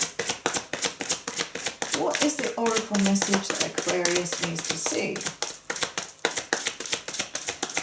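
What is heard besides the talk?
shuffling oracle cards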